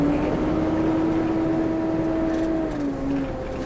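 A MAN X65 truck with a 16-gear ZF transmission, working on a large arable farm, runs with a steady loud engine drone and a sustained whine that drops in pitch near the end, with no voices.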